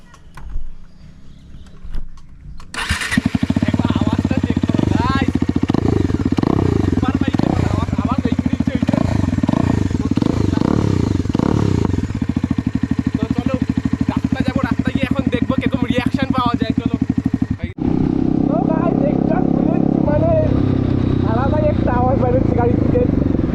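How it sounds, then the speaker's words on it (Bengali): Superbike with its exhaust silencer removed, starting up and running with a loud raw rasp and revving that carries on steadily to the end, with people talking over the engine. "বাইকের তো সাইলেন্সার খুলে দিলাম, আর দেখতেই পাচ্ছি আওয়াজটা কীরকম"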